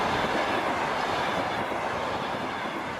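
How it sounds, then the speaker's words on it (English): A train rolling through the sparsely vegetated Kyzylkum desert in southern Uzbekistan: a steady, loud rumble and rattle of wheels on rails, close and continuous, with no talking. "Now the train is rolling through the sparsely vegetated desert of Kızılkum in southern Uzbekistan."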